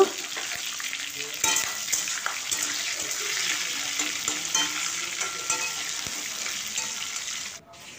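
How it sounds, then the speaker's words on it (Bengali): Curry leaves and a whole tomato frying in oil in a pan give a steady, bright sizzle with occasional stirring clicks, close and continuous, with no voices. "একটুক্ষণ ভেজে নেব কারি পাতাগুলো"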